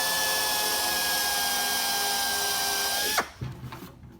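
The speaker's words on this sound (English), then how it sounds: "to get that drill to stay centered" A power drill bores out a rivet head, a steady high whine with strong tonal lines that holds for about three seconds, then the motor cuts off and spins down, followed by a few small clattering knocks.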